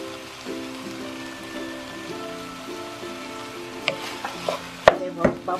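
Chinese fried rice with shrimp and soy sauce being stir-fried in a pan: a soft, steady sizzle, then sharper scraping and clattering of the utensil against the pan building toward the end.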